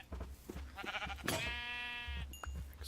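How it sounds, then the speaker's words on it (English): Sheep bleating in the Minecraft Better Than Wolves mod: a long, wavering, nasal bleat stands out near the middle, with shorter game sounds and low thumps before and after. "I'm gonna go after this sheep."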